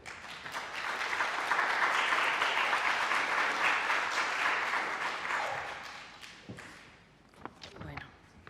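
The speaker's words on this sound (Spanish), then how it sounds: "Y les pido a ustedes pues, un aplauso de bienvenida y de agradecimiento." Audience applause welcoming a lecturer to a literary conference session on Inca Garcilaso, steady and fairly close for about six seconds before thinning into scattered claps and a thump or two.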